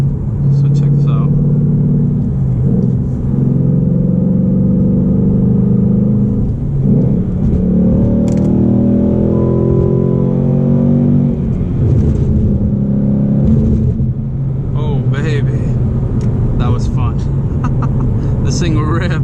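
A 2019 Ford Mustang GT accelerating hard, its V8 engine rumbling and revving up steadily from inside the car, loud and continuous, with a voice talking over parts of it.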